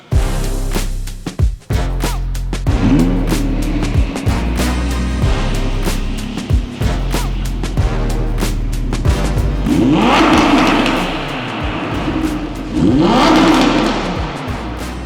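A Maserati Quattroporte engine revs hard and drives, a loud continuous car roar that surges and climbs through several gear pulls, with rising engine whine toward the end.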